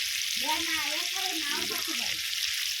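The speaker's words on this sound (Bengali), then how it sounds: "গ্যাস জোরে দিয়ে দিয়েছি, এগুলো একটু ভেজে নেবো" Crab pieces fry over a high gas flame with a dense, even hiss of hot oil, while a voice briefly murmurs over the sizzle.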